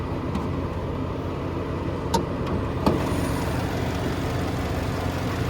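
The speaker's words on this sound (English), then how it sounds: "But there's that handcrafted 4-liter V8 bi-turbo." Mercedes-Benz GLS 63 AMG with its 4.0-liter twin-turbo V8 idles in a steady, even rumble, close and moderately loud, with a couple of faint clicks partway through and no talking.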